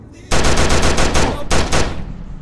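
Rapid automatic gunfire in the Skibidi Toilet horror game, a loud close burst of evenly spaced shots, a brief pause, then a second shorter burst trailing off.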